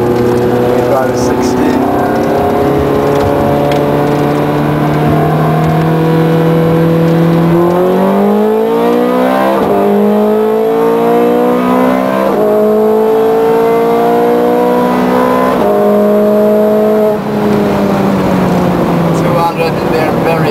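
A Ferrari 430 Scuderia accelerates hard out of a corner from second gear, its loud engine note rising steadily through the revs with gear changes and falling pitch shifts, under a voice.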